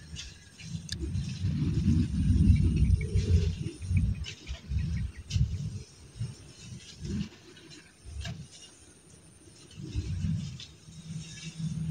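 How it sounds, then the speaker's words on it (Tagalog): Thunder rolls as a deep, low rumble that swells and fades in several long waves over an outdoor garden where a gourd trellis is being taken down, with faint ticking and insect-like noise in the background. "Kumukulog na."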